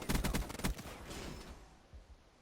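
A short, loud burst of rapid HVK assault rifle fire in a video game, then a quieter tail of echoes and faint later shots.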